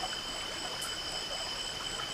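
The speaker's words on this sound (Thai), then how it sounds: "เสียงน้ำไหล" Stream beside a rural campsite at night, water flowing in a faint, steady, even rush with light trickling texture, heard alone without talk.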